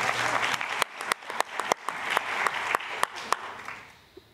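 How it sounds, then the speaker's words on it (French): Audience applause at a French-language science conference: a dense wash of clapping with some louder individual claps standing out near the front, fading away in the last half second. "Vous pouvez applaudir."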